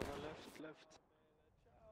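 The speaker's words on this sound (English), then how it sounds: "All those shots." A few distant gunshots crack during a War of Rights video game battle at the Bolivar Heights Redoubt, faint and sharp, then fading into quieter game ambience.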